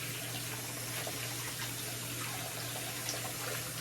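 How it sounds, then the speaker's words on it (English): Tap water runs steadily into a sink as hands are washed, a continuous close splashing hiss with a low hum beneath and no voices. "Let me wash my hands."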